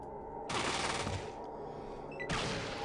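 Bursts of automatic gunfire in the video game Fallout 2, sharp rapid rattling volleys in two loud stretches separated by a quieter pause.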